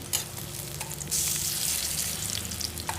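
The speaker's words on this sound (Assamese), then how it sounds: "এতিয়া মই এখন চামুচ দি পকৰীকেইটা পালটাই লওঁ।" Pakoras sizzle steadily in hot oil while a spoon stirs and turns them, with small scraping clicks over a continuous close frying hiss.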